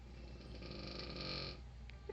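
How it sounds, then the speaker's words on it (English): A person snoring loudly nearby, one long drawn-out rasping breath that holds steady and then eases off, with a faint click at the end and no talking. "My brother is snoring so loudly right now."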